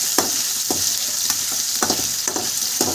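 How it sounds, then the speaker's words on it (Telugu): Onions being fried in a pan for a paneer and green peas curry sizzle loudly and steadily, while close spoon strokes scrape and stir through them at a regular pace. "బాగా ఆనియన్స్ వేడెక్కి బాగా కలుపుకోవాలి"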